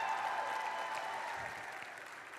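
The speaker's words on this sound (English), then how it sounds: "Can we give him a round of applause?" Crowd applause at a robotics district event's opening ceremonies, steady continuous clapping from a large audience in a big hall, moderately distant, with no speech over it.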